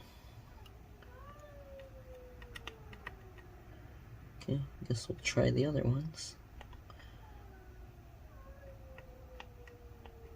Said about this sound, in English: The cats are all meowing together right now.